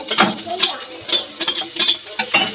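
Panch phoron five-spice seeds stirred in hot oil with a spatula, giving a series of close, rhythmic scraping strokes over a light crackle, with no talking.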